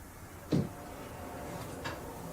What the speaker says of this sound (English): You open this door.